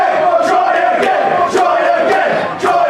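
Crowd at a wrestling show in Bury St Edmunds cheering and shouting for another attempt, a loud sustained roar with rhythmic bursts of yelling.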